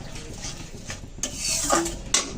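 Spice paste for begun bhapa, a steamed eggplant dish, is stirred and fried in a pan. A spoon clinks and scrapes against the metal over a faint background sizzle, close and continuous.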